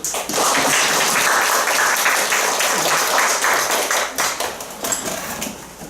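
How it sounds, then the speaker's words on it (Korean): A class at a church Bible lecture gives a burst of loud, dense applause that holds steady, then thins into scattered claps toward the end. "박수"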